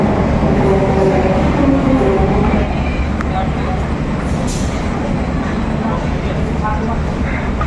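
The Ijen Express train from Malang to Ketapang gives a steady, loud rumble throughout, with a person talking over it.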